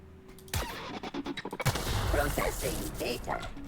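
Suppressed gunfire in The Outer Worlds, heard as a quick run of muffled sharp pops clustered over about a second, followed by a denser, steadier din of game sound.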